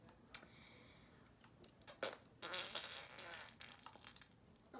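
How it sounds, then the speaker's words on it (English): Short fart noise sound effects burst out in quick bursts, mixed with soft keyboard and mouse clicking, fairly quiet with no voices. "There are your fart noises for this video."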